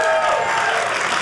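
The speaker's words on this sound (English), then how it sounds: "Clap it up if you're in love." Comedy club audience clapping at a stand-up special, a loud, dense burst of applause from a crowd, steady throughout with faint voices mixed in.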